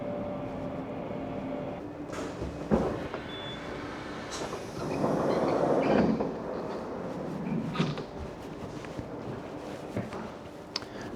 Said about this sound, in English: the train that we are taking is a 6:25 to Zwolle